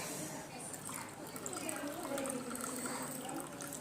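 Sour water poured onto salted food, a soft liquid trickle and splash beneath a person talking close by.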